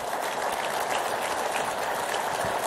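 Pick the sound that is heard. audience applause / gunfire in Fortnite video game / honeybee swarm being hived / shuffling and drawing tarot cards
audience applause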